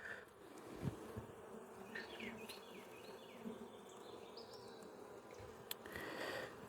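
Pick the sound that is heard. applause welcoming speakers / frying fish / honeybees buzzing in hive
honeybees buzzing in hive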